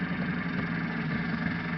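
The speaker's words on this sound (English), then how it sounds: "now I've started the engine." An airplane engine idles at a steady, even drone in a flight simulator game just after start-up, with no talking over it.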